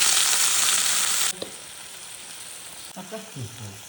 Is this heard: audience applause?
no